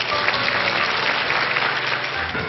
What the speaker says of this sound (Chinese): 这样的男人我认为值得我们给他一点掌声